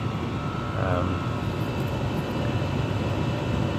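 A waste oil heater, a retrofitted Chinese diesel heater burning used oil, runs with a steady, loud broadband roar and low rumble that stays constant throughout.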